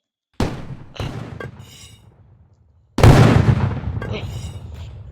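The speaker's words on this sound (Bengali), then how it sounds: "এখন ব্যাগ থেকে তাড়াতাড়ি ওই যে আরপিজিটা বের করি।" Two heavy booms ring out in a shooting video game as an RPG rocket launcher fires and explodes. The first blast decays over about two seconds, then a louder, longer one follows, and brief crackles come after each.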